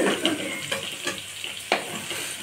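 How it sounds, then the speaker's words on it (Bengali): Potatoes frying in oil in a wok, a soft crackling sizzle with a few sharper spatters and scrapes, close by and moderately quiet, no voices. "আমার আলুগুলো লাল লাল করে ভাজা হয়ে গেছে"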